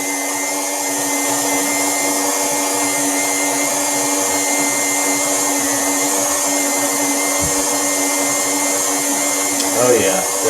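An electric mixer creaming blondie batter runs as a steady, continuous motor whir, close and fairly loud, with a brief change in tone near the end.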